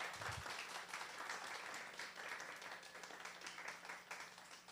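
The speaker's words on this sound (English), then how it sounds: "One round of applause for Rick Rolling." An audience applauds steadily at a hackathon event, a dense wash of clapping that holds at an even level for several seconds with no talking over it.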